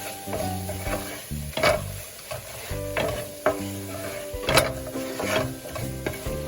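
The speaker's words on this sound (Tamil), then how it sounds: "பெப்பர் போட்டுட்டு கலக்கி விட்டுடலாம்." Squid fry seasoned with pepper is stirred in a pan, with repeated scraping and clinking strokes of a spoon over a low sizzle, close and irregular, with a steady tonal hum behind it and no speech.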